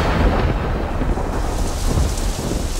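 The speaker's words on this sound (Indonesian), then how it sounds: "suara petir cukup mengagetkanku, sampai semua lampu di rumah ini mati." Thunder rumbles through a heavy rainstorm, a loud, continuous roll of low booming mixed with steady rain hiss and no voices.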